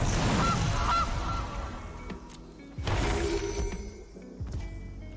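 Gilded Goose card from the MTG Arena card game honking, a loud goose call with bright game sound effects, followed by two shorter bursts later on.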